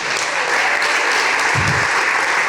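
Audience applause for a city council that has declared a climate emergency, heard at a city sustainability symposium. Dense, steady clapping fills the whole stretch at a constant level, with no voices over it.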